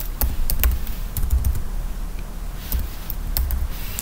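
Someone types a command on a computer keyboard, an irregular patter of close key clicks over a low background hum.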